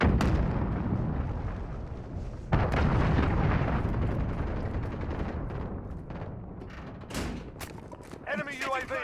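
Cruise missile strikes and gunfire in the video game Call of Duty Modern Warfare (2019) on PS4: loud continuous rumbling explosions with a heavy impact near 2.5 seconds, dense crackling fire, and voice callouts near the end.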